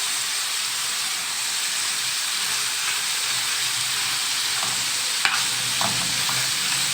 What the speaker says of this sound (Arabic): هنبدا بقى نحط بصل متقطع كده